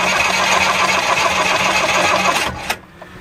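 A Perkins 4.108 diesel generator set engine cranks steadily on a weak battery during a cold start, with a dense, sluggish mechanical whir, then cuts off abruptly near the end, leaving a short quiet tail.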